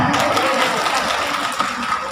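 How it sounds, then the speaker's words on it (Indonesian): An audience at a Muslimat and Fatayat NU religious gathering in Kepri claps steadily, a short, even burst of dense applause with no pauses. "Tepuk tangan."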